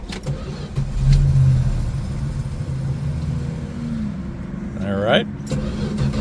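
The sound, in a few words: vehicle engine cranking, trying to start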